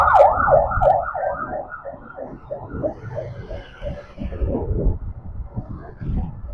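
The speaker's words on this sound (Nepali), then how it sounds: "एम्बुलेन्स" A loud ambulance siren wails nearby on a rainy road, its repeating two-tone cycle dominant at first, then fading and mixing with traffic rumble as the vehicle passes.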